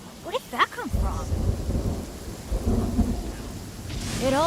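Thunder and rain in the game Genshin Impact: a deep rumbling roll of thunder over steady falling rain, loud and close, with short game voice sounds at the start and end.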